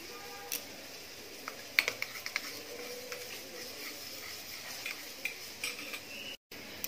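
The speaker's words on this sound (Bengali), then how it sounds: "এবার ময়দাটা দেওয়ার পর এটা ভালো মতো একটু মিশিয়ে নিতে হবে, যাতে কোনোভাবে কোনো ডেলা না থাকে।" A spoon mixing flour into milk in a bowl: soft, close scraping and light irregular clinks against the bowl, with no talk.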